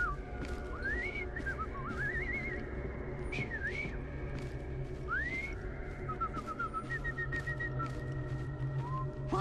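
A man whistles in Assassin's Creed Syndicate, several short rising and warbling melodic phrases of moderate loudness set against a low, steady background hum.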